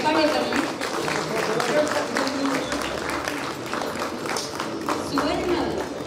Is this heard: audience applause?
yes